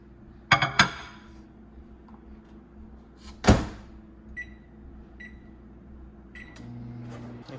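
A door thuds open, a sharp clunk follows, then short beeps and the low steady hum of a microwave starting up.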